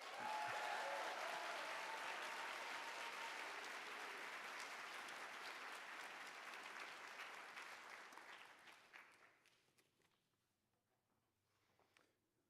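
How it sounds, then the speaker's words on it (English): A graduation crowd at a university bioengineering ceremony claps in a dense, sustained roar of applause that holds for about eight seconds, then thins and fades to a few scattered claps and near silence. "Now you may clap."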